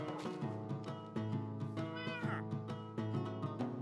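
Minecraft cats meow repeatedly in quick succession, several clear close mews overlapping at an uneven rhythm, with no talking.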